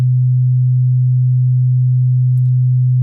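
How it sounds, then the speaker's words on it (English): A steady, pure low hum from a drum oscillator in a Voltage Modular synthesizer drones continuously, unchanging and loud, with a faint tick near the end. "let's output the drum oscillator and hear what's actually happening"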